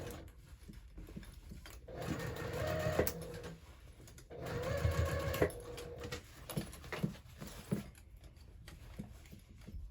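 A sewing machine runs in two fairly quiet bursts while stitching a 5/8 inch seam on a fabric hobo bag, its rapid needle chatter broken up by pauses filled with fabric rustling and soft handling sounds.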